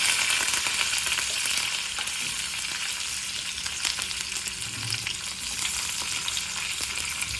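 Garlic, shallots and curry leaves sizzle in hot oil, a steady bright crackle with occasional stirring scrapes and pops, close and clear with no talking.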